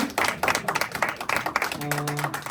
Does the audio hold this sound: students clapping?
yes